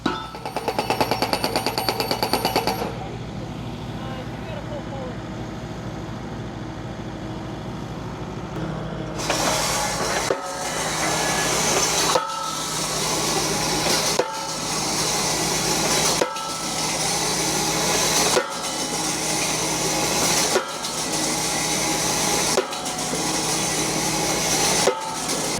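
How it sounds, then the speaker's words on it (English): A tractor-mounted 3-point hitch post driver drives fence posts into the ground, a series of loud, evenly spaced heavy impacts about every two seconds over a steady engine drone. "MX series tractor with a 3-point hitch mounted post driver."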